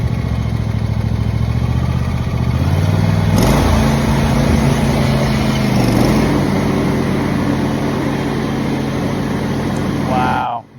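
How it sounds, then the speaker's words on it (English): A kid's ride-on tractor engine sounds loud and close, a steady buzzing drone that revs up partway through and keeps running before cutting off abruptly at the end. "here's another kid riding a tractor"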